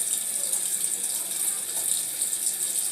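Water runs steadily from a tap while wetting hair during styling, a continuous bright hissing splash with no talking.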